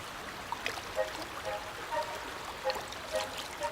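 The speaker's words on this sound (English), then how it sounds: "Below the forest, the river Klemgia winds through the valley." River water running through a forested valley in the Alps, a soft steady babble and trickle with faint bright drips, fairly quiet and with no one speaking.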